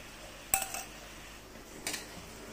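A spoon stirs a sweet tofu and tempeh bacem mixture of sugar and tamarind water in a pan, giving two brief metallic clinks against the pan amid quiet room tone, with no talking.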